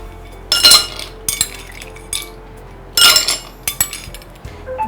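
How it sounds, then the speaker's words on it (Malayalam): Ice cubes drop into a glass for a cold drink, giving a few sharp clinks and rattles in two main bursts, close by and with no talking. "കുറച്ച് ഐസ് ക്യൂബ്സ്"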